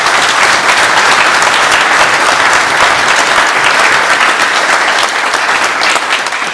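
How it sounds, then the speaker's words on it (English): Loud, sustained applause from a large crowd honoring event volunteers and food service staff, dense and steady for the whole stretch, with no pauses. "I would like to hear a round of applause for all of the volunteers who helped put this on,"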